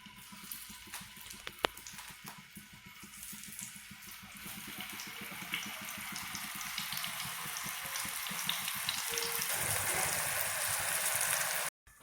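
Eggplant pieces fry in coconut oil in a hot pan, giving a steady, building crackle and hiss of sizzling that grows slightly louder over time, close and continuous with no talking.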